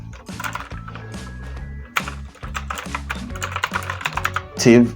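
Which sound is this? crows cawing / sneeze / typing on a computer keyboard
typing on a computer keyboard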